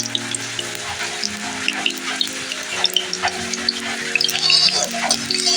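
Oil hisses in a hot kadai, a steady crackling sizzle close up under soft background music.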